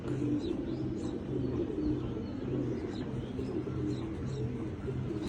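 Giya Gorra pigeons coo in soft, repeated low pulses at close range, with faint chirps and a steady background hum, no speech.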